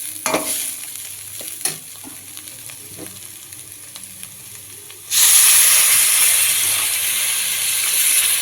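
Quiet scraping of stirring in a pan of spices, then a sudden loud hiss and sizzle as water hits hot oil, continuing steadily.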